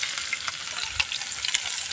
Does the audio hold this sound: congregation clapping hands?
no